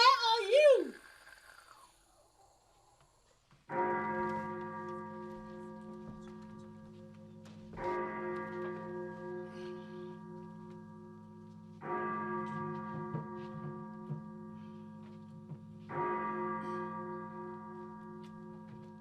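Large tuned bells ringing out a city-wide evacuation warning ahead of approaching Martians in a radio drama set in Cape Town, sounding in four long, loud resonant strikes roughly every four seconds, each decaying slowly, after a brief voice at the start.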